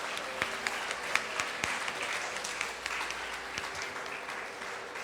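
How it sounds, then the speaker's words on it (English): Young children around four to six years old are cheered at a school annual day celebration with steady audience applause, dense clapping with a few sharper claps standing out, fairly close and moderately loud throughout. "Please give a huge round of applause."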